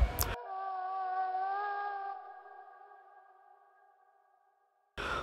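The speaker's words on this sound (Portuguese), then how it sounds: "Lobo." A wolf gives a single long, steady howl that holds one pitch and slowly fades away, with brief bursts of other sound at each end.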